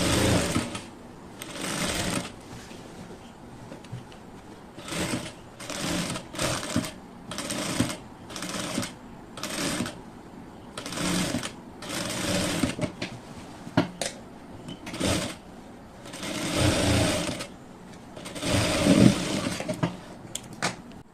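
A sewing machine stitches fabric in repeated bursts of rapid mechanical whirring, separated by short pauses. It is close and clear, at a moderate level, with no talking.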